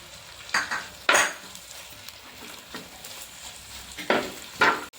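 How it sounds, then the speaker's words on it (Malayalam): Green chillies, garlic and curry leaves sauté in a pan for a fish curry, with a low sizzle under a few sharp, irregular scrapes of a spatula stirring close by. "നാല് പച്ചമുളക് നീളത്തിൽ കട്ട് ചെയ്തത് മൂന്ന് വെളുത്തുള്ളി നീളത്തിൽ കട്ട് ചെയ്തത് ആവശ്യത്തിന് കറിവേപ്പിലയും ചേർത്ത് നമുക്കിത് നന്നായിട്ടൊന്ന് വഴറ്റിയെടുക്കാം"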